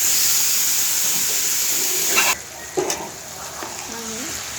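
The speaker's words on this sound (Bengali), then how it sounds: "চুলায় কড়াই বসিয়ে দিয়েছিলাম, কড়াইটা গরম হয়ে গিয়েছে। এখন আমি যে মাছটা মেখে রেখেছি ওটা বসিয়ে দেব।" Marinated fish hits a hot wok in a loud, steady hiss of spitting oil that cuts off sharply halfway through, leaving a quieter kitchen with a few faint clinks and brief noises.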